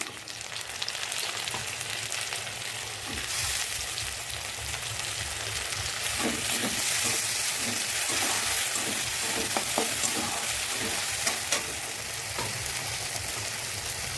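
Chopped onions and tomatoes fry in a pan, a steady hiss that grows denser and crackly midway, with scattered stirring clicks and scrapes, close up and with no voices.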